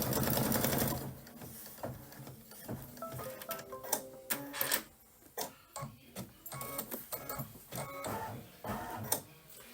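An embroidery sewing machine stitches a placement line, a rapid close mechanical chatter at the start giving way to bursts of stitching and clicking needle strikes with brief pauses, moderately loud and without talk.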